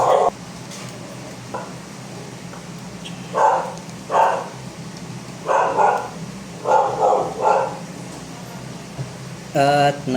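A dog barks in short bursts, several barks spaced across the stretch, over a low steady background hum with faint kitchen noises as chicken and eggs cook.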